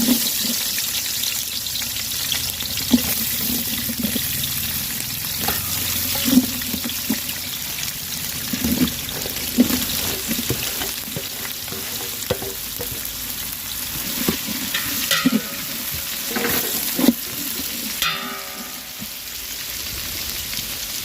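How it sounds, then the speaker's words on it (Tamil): Onions fry in hot oil with cinnamon, bay leaf and star anise for chicken dum biryani, a steady close sizzle broken by frequent stirring scrapes and clinks. "வெங்காயம் நல்லா கோல்டன் ப்ரௌன் கலர் வர வரைக்கும் வதக்கி விட்டுட்டே"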